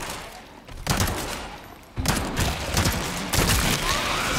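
Bursts of gunfire in Resident Evil 4 Remake as parasites are shot at, arriving in three loud clusters of rapid cracks and thumps, each separated by a brief lull.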